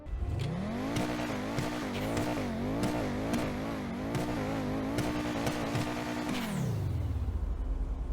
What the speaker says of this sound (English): This thing has a really cool turbo like blow off valve noise